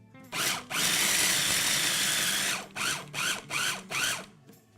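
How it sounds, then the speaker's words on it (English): A food processor grinds pesto ingredients with a long whirring run, then pulses four times in short, even bursts, loud and close with brief pauses between. "we're gonna grind and pulse it till it breaks down a bit more"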